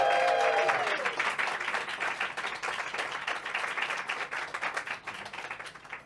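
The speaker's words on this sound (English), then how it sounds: "A round of applause, please, for us." Audience at a live comedy podcast show applauding, a loud burst of clapping that carries on steadily and slowly thins toward the end, with a brief tone at the start and faint voices mixed in.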